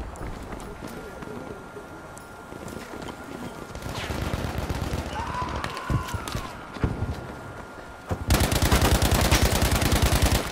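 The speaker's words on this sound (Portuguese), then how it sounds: "Tô tomando tiro dali" Rapid automatic gunfire from a machine gun in the Battlefield V Firestorm mode, with scattered shots under excited talking, then a loud sustained burst of fire near the end.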